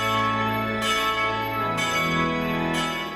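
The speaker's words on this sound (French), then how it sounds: "Le son des cloches et de l'orgue ne fait plus qu'un avec le chant du Gloria." Church bells ring in a steady, full peal blended with organ and sung Gloria during the Holy Saturday Easter vigil in Jerusalem, loud and continuous with regular strikes.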